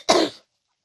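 A single short, throaty cough from a woman, close and fairly loud, ending abruptly into silence.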